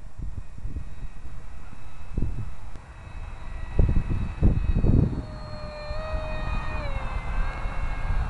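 The small electric motor of an Air Hogs Titan toy RC airplane whines steadily with rising and falling pitch, buzzing close by with a few louder low bursts mixed in.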